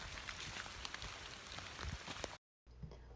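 Steady rain falls on the C&O Canal towpath during a backpacking hike, a dense continuous patter of drops on surfaces, fairly loud and close, broken by a brief dropout near the end.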